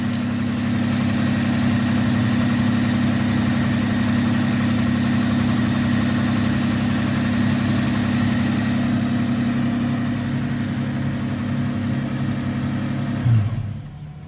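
The 3.0L engine of a 1995 Nissan Pickup idles steadily and loudly up close with a constant low drone, then cuts off abruptly near the end.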